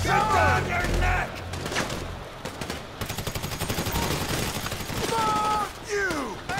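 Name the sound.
gunfire in the video game GTA 5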